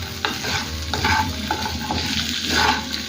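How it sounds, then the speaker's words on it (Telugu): Potato pieces fry in oil over a low flame with a continuous soft sizzle while a spoon stirs them, scraping and clattering in several distinct strokes, close up and without talk. "ఇలా లో ఫ్లేమ్లోనే ఫ్రై చేసుకోండి క్రిస్పీగా చాలా బాగా వస్తాయి ఆలుగడ్డలు"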